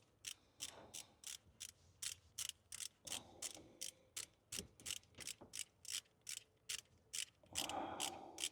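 Ratchet wrench rapidly clicking in short back-and-forth bursts while tightening 10 mm water pump bolts on a 2020 Dodge Durango, about fifteen close, crisp ratcheting strokes, ending in a louder rustle of handling.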